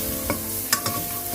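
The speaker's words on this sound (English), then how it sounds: "Continue to fry it, and don't forget our bay leaves." Curry chicken ingredients fry with coriander powder and two bay leaves, a low sizzle broken by a few quick scrapes of the spatula.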